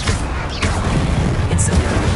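In Hogwarts Legacy, an Incendio fire spell is cast with a loud, dense roaring whoosh of flame that holds steady, with short bursts and crackles mixed in.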